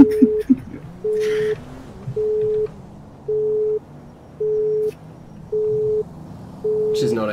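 Unanswered phone call in GTA 5, heard as a steady run of seven evenly spaced electronic tones, each about half a second long with a second of quiet between them, with faint background noise underneath.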